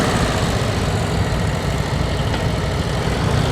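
A motorcycle engine runs at slow speed with the clutch preloaded, a steady, rumbling low idle held close and continuous, with no talk.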